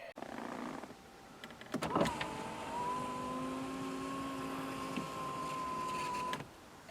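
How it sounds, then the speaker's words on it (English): A 1998–2002 Chevrolet Camaro passenger power window rolls down very slowly, a thin steady electric motor whine lasting several seconds after a brief click and clunk, close and clear with no talking. "The passenger window rolls down as slow as molasses in January."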